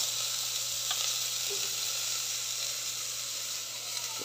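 Danggit fish sizzling in a hot pan, a steady, close, continuous hiss and crackle that holds at an even level from start to finish.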